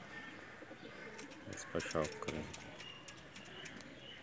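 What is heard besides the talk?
pigeon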